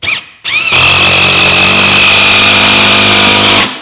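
A power drill or driver sends a screw into a wooden wall stud. A couple of short bursts come first, then a loud, steady whine that holds close to the mic for about three seconds, with no talking.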